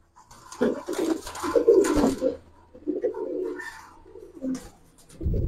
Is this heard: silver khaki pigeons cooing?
yes